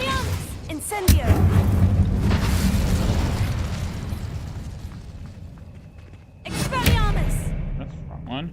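Incendio fire spell in Hogwarts Legacy, a booming burst of flame with crackling rumble that trails off, then a second whooshing blast near the end, with a voice talking over it.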